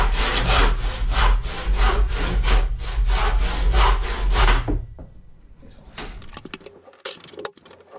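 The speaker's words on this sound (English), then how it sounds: "Bluntest saw in the world." A blunt hand saw cuts wood during a bathroom renovation, with about a dozen even, rasping back-and-forth strokes. The sawing stops abruptly near the middle, then a few scattered knocks and scrapes follow.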